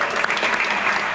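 A brief, dense burst of audience clapping for a state representative at the reopening of an indoor swimming pool, steady and fairly loud with no talk over it.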